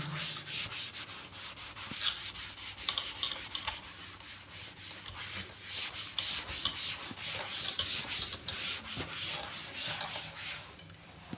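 Writing is wiped off a classroom blackboard with steady back-and-forth rubbing strokes, a continuous close scrubbing sound with no talking.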